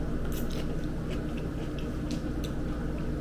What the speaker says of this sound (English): I love kimchi when it's crunchy